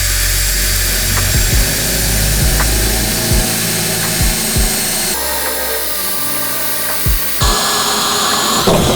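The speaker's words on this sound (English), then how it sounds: "I'm going to get the drill going" Power drill boring a hole for a bathroom faucet at a vessel bowl sink, a loud continuous whining grind with shifts in pitch and brief knocks, close and steady with no voices.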